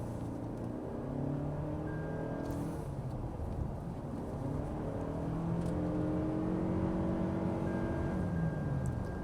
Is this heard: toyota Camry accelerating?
yes